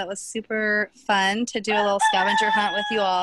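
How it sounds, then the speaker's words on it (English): Roosters crowing in the background, several drawn-out calls heard under a woman's close, continuous talking. "And you can hear my koi roosters in the background."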